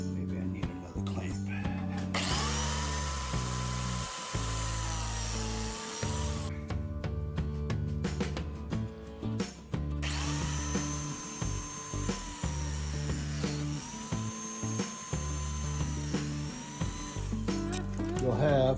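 A biscuit cutter plunges into wood in two long, loud whining bursts separated by a short gap and scattered clunks, the high spinning-blade tone holding steady during each cut.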